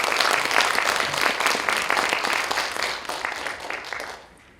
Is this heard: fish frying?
no